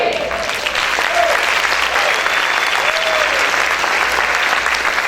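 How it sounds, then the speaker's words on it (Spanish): A church congregation breaks into loud, dense applause that holds steady throughout, with faint voices and a brief tonal sound partly audible beneath the clapping. "Si ese aplauso es para el Señor, déselo fuerte."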